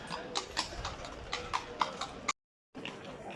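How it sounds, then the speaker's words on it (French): A horse pulling a carriage clip-clops through the streets of Seville, with steady, fairly close hoofbeats over faint street ambience and a short dropout near the end. "On a un cheval avec une carrosse,"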